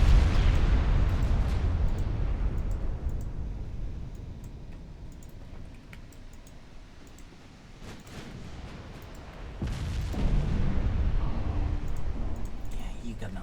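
Heavy naval gunfire in the warship game Ultimate Admiral Dreadnoughts, a German fleet firing on a Russian battleship, deep rumbling booms that swell, fade and return while someone talks throughout.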